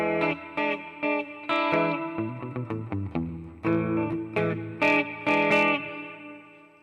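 Electric guitar run through a Harley Benton DNAfx GIT Core multi-effects processor, with chorus shimmer and mild distortion, playing a melodic lick of chords and single notes, clear and close with no voices.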